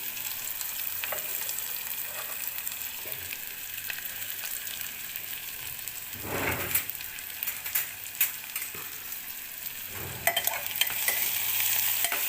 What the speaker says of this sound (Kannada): ಇದನ್ನು ಚೆನ್ನಾಗಿ ಫ್ರೈ ಮಾಡಬೇಕು. ಚೆನ್ನಾಗಿ ಈರುಳ್ಳಿ ಫ್ರೈ ಆಗಬೇಕಿದು.